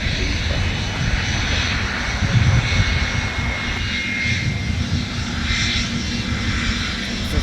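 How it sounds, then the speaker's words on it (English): Delta 121 Heavy, a heavy jet airliner, taxis toward runway 12 Right at MSP airport during winter deicing operations, its engines a loud, steady roar throughout with a slight swell midway. "Delta 121 Heavy now in motion. Making its way over towards runway 12 right"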